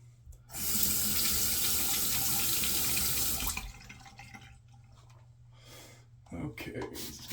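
A bathroom tap runs steadily into a sink for shaving water, a loud close hiss for about three seconds before shutting off, then quieter splashing and rinsing noises follow.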